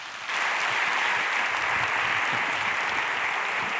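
An audience at a talk on future materials bursts into loud, dense applause for a speaker, starting abruptly and holding steady, with no talking.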